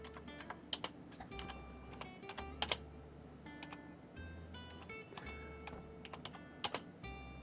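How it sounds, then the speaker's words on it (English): Rapid typing on a computer keyboard, close and fairly quiet, with irregular bursts of clicks, short pauses and a few sharper key strikes, heard alone over a low steady background hum. "Sorry, typing to a friend."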